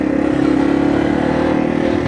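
A Yamaha TW motorcycle rides a rutted dirt trail in fifth gear at about 40 mph, its engine humming steadily and close alongside a constant rattling clatter.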